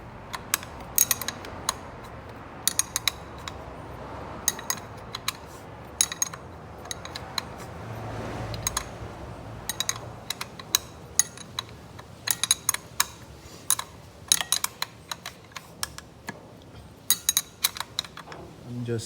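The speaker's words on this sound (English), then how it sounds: "I'm just tightening the nut on top of the mount." A nut on top of a BMW F10 engine mount being tightened with a ratchet, rapid bursts of sharp metallic clicking in repeated runs with short pauses, close and crisp over faint background noise.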